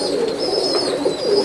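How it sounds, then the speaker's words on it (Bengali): A prize-winning champion pigeon coos in a soft, steady rolling murmur, close and continuous, with faint bird chirps overhead and no talking. "সাতবার চ্যাম্পিয়ন এই কবুতরটা সেভেন টাইম"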